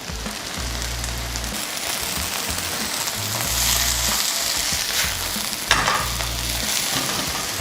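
Chutney ingredients with coconut sautéing in a pan, giving a loud, continuous close sizzle with stirring scrapes over a low, pulsing hum.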